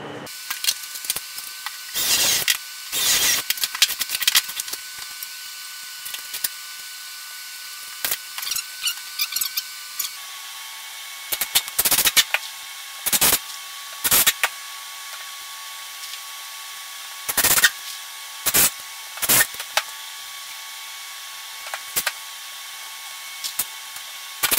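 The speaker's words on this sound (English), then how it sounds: "so now I'm going to put some pocket hole screws, I think 3 on each side, and then screw these 2 pieces together." A drill drives pocket hole screws into wood while a lathe stand is being built, with repeated whirring bursts of varying length separated by pauses, loud and close over a faint steady hum, with no talking.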